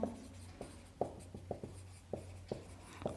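Pen writing on paper while working through a maths problem, soft scratchy strokes broken by small taps about every half second, quiet and close against a low steady hum, with no talk.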